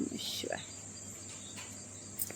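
A steady high chirping of locusts in the Konkan region runs throughout, with a few faint scattered sounds over it and no clear speech.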